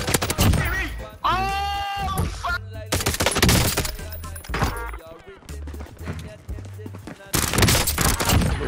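Bursts of automatic gunfire in Warzone crackle in rapid volleys, broken by gaps where excited voices talk over the action, loud and close.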